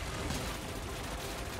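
Rapid cannon fire from a futuristic racing craft in Wipeout Omega Collection, a dense continuous volley of weapon blasts blended with the game's engine roar and effects, steady and loud throughout.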